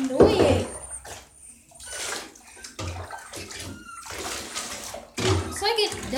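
Running water rinses a puppy in a bathtub in uneven splashing bursts, with people talking over it.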